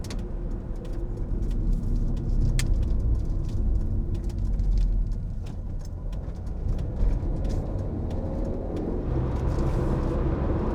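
A Volvo turbo diesel car driving at around 60, with a steady low engine and road rumble from inside the cabin that holds even through the clip.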